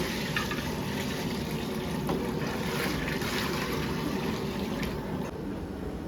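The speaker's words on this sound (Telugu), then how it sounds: "ఇంకొక డేషన్ నీళ్ళు." Water gushes steadily into a large cooking pot, a continuous broad pouring rush holding even loudness throughout, measured by the vessel to make seven kilograms of bagara rice. No voices are heard.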